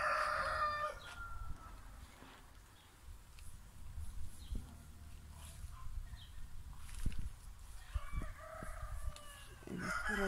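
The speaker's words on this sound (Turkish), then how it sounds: "Horozlar arasında da gövde gösterisi var. Karşılıklı ötüyorlar." Roosters crowing back and forth in the morning, one loud nearby crow opening and other birds answering from further off, with clucks and rustling between the calls.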